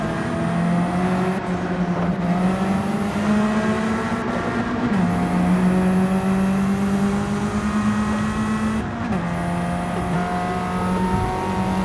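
Turbocharged SR20 car engine in Gran Turismo 7, holding a steady high drone through gear shifts with brief dips, a continuous game engine note with no talk.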